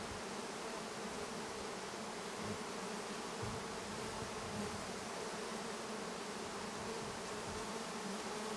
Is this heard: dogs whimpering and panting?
no